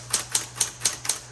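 Keys struck on a 1960s Smith Corona Coronet Automatic 12 electric typewriter, five sharp, evenly spaced clacks over a steady electric motor hum, close and fairly quiet.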